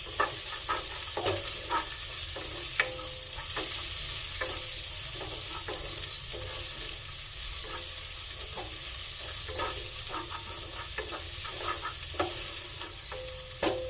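Onion and garlic sizzle and fry in a hot pan while being stirred, with a steady frying hiss broken by frequent light scrapes and clinks of the utensil, close and continuous with no talking.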